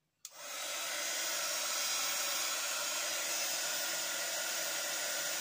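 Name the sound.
heating tool blowing hot air on craft ink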